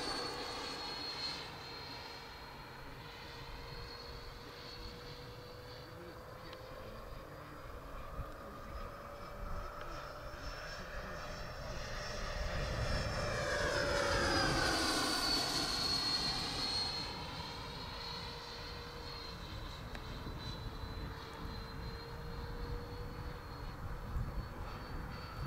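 A model Douglas F-4D Skyray jet comes in to land, its turbine whine rising and sweeping in pitch as it passes close by around the middle, then fading to a steady distant hum.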